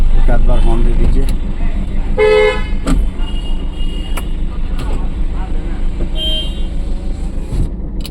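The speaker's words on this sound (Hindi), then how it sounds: "एक आध बार हॉर्न दे दीजिए" A car horn gives a couple of short toots amid steady engine idle and street noise during a driving lesson, with a voice talking over it.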